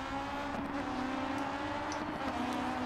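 Rival rally cars in the racing game Dirt 4, heard as a steady, muffled engine drone in the distance with a faint rising whine, no voices over it.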